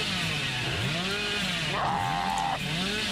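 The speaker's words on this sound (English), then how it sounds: "You're lucky I'm bad with a chainsaw." Chainsaw from Dead by Daylight revving close and loud, its pitch sweeping up and down in repeated surges over a steady droning idle, with a brief higher whine near the middle.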